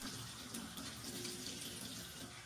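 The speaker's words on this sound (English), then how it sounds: "rinse your hands and wrists thoroughly with clean water" Tap water runs steadily into a sink as hands are rinsed, a continuous close splashing hiss with no pauses.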